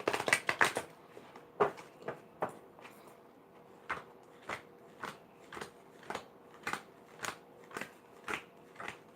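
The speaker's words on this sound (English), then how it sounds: "Oh, I want to shuffle first." Tarot cards are shuffled at a table in a run of crisp, papery riffles, first a quick burst and then evenly spaced snaps about every half second, close and fairly quiet, with no talking.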